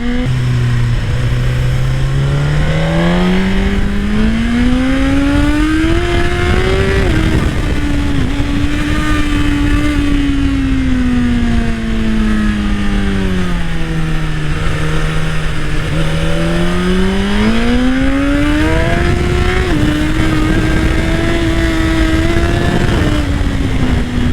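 A Suzuki GSX-R1000 sport motorcycle engine revs and accelerates hard, pitch rising and falling through gear changes, loud and close with strong wind rush throughout.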